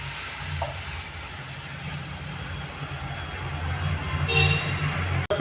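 Kuzhambu mixture is poured over popped mustard seeds and asafoetida in a hot pan and stirred, giving a steady close sizzle with faint scraping and a brief clatter near the end.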